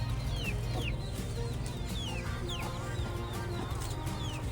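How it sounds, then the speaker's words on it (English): Baby chickens cluck and chirp repeatedly around a rural farmyard in Vietnam, a busy overlapping chatter of small birds at moderate distance with a low steady background hum. "The baby chickens,"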